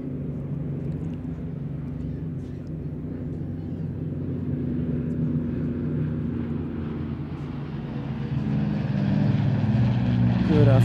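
Battle of Britain Memorial Flight propeller aircraft at an RAF Cosford airshow give a continuous low engine drone that swells louder toward the end, with faint talk mixed in.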